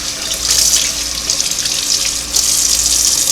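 Running tap water splashes steadily over a Singer sewing machine foot pedal cover as it is rinsed in a sink, a continuous close hiss with no talking.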